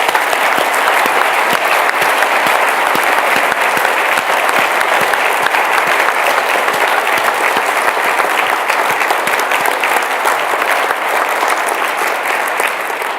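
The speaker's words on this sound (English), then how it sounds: "I would like to give them an applause" Loud, sustained applause from a conference audience, dense steady clapping filling the whole stretch with no pauses, close and even throughout.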